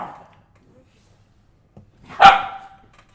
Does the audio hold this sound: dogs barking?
yes